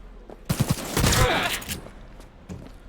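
Shotgun fire in the shooter Cyberpunk 2077, a quick cluster of loud blasts followed by a longer roaring burst and fainter shots trailing off.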